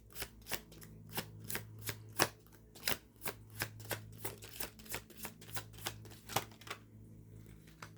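A tarot card deck is shuffled steadily, giving a rapid run of crisp, evenly spaced riffling snaps close to the mic over a low background hum, with no voices.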